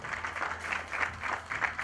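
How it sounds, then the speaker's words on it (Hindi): An audience at the trailer launch of Kapil Sharma's film Firangi claps in a brief, dense burst of applause that rises and falls in waves, with no voices over it. "मान साहब के लिए जोरदार तालियां हो जाए"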